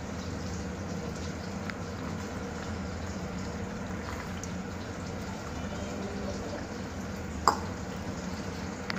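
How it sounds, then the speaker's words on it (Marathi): Water goes into a thickening crab gravy with cornflour in a pan, producing a soft continuous bubbling, trickling wash, close and moderate, with one sharp clink near the end. "त्यामध्ये पाणी टाकतोय."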